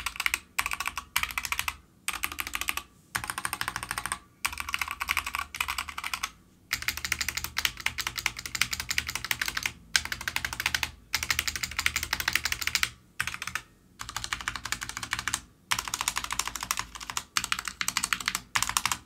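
Rapid typing on a Wooting Two HE gaming keyboard, bursts of crisp clacking keystrokes broken by short pauses, close and clear with no talking.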